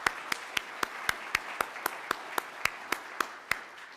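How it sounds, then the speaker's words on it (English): Crisp, evenly spaced claps in a steady rhythm, about four per second, sound close and distinct at a citizenship and immigration law training session, more like a few hands clapping in time than a full crowd's roar. "let's hear a big round of applause for all of you"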